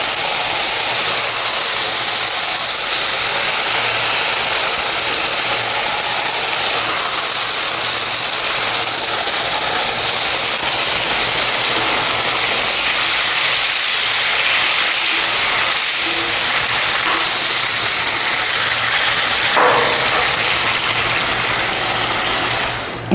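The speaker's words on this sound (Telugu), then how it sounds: "ఈ చింతపండు పులుసుని ఈ తాలింపులోకి పోసుకోవాలి." Tamarind broth is poured into hot tempering in a pan and sizzles hard. A loud, steady hiss rolls on without a break and gradually eases toward the end.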